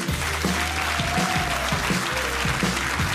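A studio audience at a satire show applauds to welcome a guest, steady sustained clapping from a full room, close and even throughout with a faint voice underneath.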